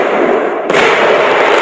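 A celebratory fireworks burst follows a slightly quieter crackle, then a sharp loud onset leads into sustained crackling that continues to the end, with no voices present.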